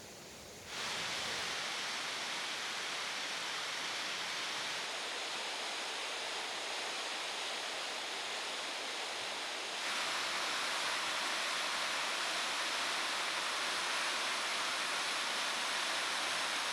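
Steady rushing water of a river flowing beside a forest trail in an old growth state park, a broad continuous wash of sound with no voices.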